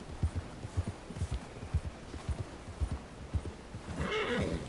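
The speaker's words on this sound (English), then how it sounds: "But this horse is just complaining all the time." In Red Dead Redemption 2, a horse's hooves clip-clop in a steady walking rhythm, and near the end a whinny rises over the footfalls, all close and moderately loud.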